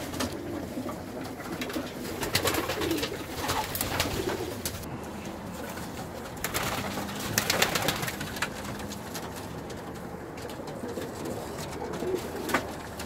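Vouta pigeons in a pigeon loft cooing repeatedly, with several birds overlapping in soft, rolling calls near the microphone, plus occasional wing and movement noise.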